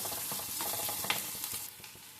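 Curry sizzling and frying in a pan with potatoes, a steady close hiss with faint stirring scrapes and small pops, no voices.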